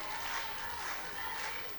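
Distant, muffled applause rolls steadily from a large audience at an AK Parti women's branch congress in Van, a faint continuous wash of clapping with no clear voices on top.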